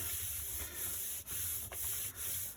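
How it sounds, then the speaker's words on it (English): Flat of a hand rubbing over a foam printing block to burnish it, a close, quiet and steady scrubbing broken by a few brief pauses. "I'm going to lean a little bit harder with the flat of my hand to burnish"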